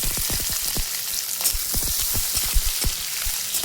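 Cardamom, cinnamon, shahi jeera, black pepper, cumin, ginger pieces and garlic cloves fry in hot oil for chicken boti masala, a steady close sizzle broken by sharp crackling pops.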